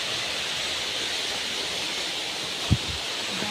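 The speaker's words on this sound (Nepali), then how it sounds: "बम खोला आइपुग्यौँ है" The Bam Khola river in Bhojpur flows with a steady, soft rushing hiss that never lets up, heard from a little distance, with one brief thud near the end.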